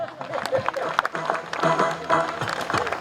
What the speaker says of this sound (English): Let us clap for Malay.